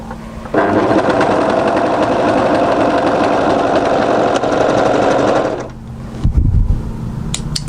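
An overlocker sewing machine stitches through fabric in a loud, fast continuous whir, then keeps running as it chains off and slows, ending with a few close clunks and handling noises.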